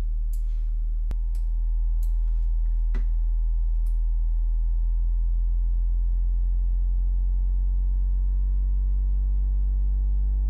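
An Arturia EMS Synthi V software synthesizer, played through its output filters, holds a steady, sustained tone over a deep, constant low drone. A few sharp clicks sound in the first seconds. No one speaks.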